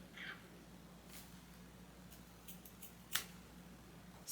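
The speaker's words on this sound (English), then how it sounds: "Just cutting off the elastic." Scissors snipping through the elastic of a crochet wig net, a few faint, sharp clicks spread unevenly over a quiet room hum.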